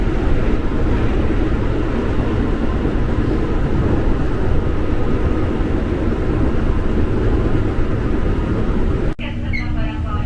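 A long-distance train runs near the Cipinang depot, heard from inside a moving commuter train as a loud, steady rumble and roar that holds for about nine seconds before dropping off abruptly.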